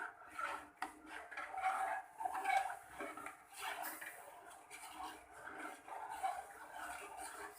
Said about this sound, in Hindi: इसमें दूध ऐड करने के बाद चम्मच हिलाते रहेंगे ताकि जो साबूदाना है हमारा वो नीचे ना बैठ जाए